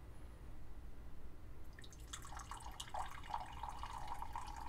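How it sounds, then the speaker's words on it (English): Gingerbread-flavored carbonated drink is poured into a glass: a quiet start, then a soft splashing pour with fizzing and popping bubbles over faint background hum. "So we're going to pour this one into a glass."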